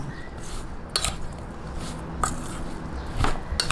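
Tilapia stuffing with ginger and spices being stirred in a bowl, a few separate clinks and scrapes of a utensil against the dish spaced about a second apart, with soft squishy mixing between.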